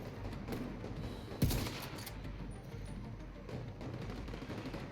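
Bursts of gunfire from an automated turret in The Division 2, with one sharp shot standing out against a low, steady wash of distant shooting and game ambience.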